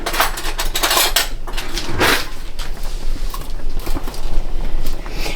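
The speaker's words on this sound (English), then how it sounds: "But let me just start stirring some of this in. I'll grab a nice dry spoon." A dry spoon scrapes and clinks against the inside of a pot while stirring spaghetti sauce over low heat, giving close, irregular metallic knocks and rattles.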